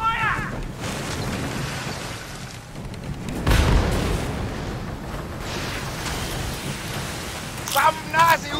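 Ship cannons fire in the Skull and Bones video game: a few heavy booms ring out, the largest in the middle and a quick pair near the end, over steady sea and wind ambience and shouted crew voices.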